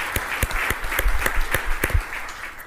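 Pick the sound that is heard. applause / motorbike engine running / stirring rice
applause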